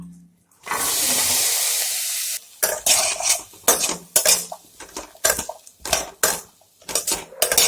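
Dried fish fries in a pan with a steady loud sizzle, followed by repeated scraping and clanking strokes of a spoon stirring against metal in an irregular rhythm, with no talking.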